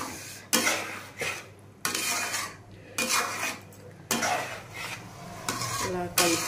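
A utensil stirs tamarind water into a stuffed brinjal curry in a metal pan, giving repeated scraping strokes against the pan at a regular rhythm, close by, with a faint sizzle underneath.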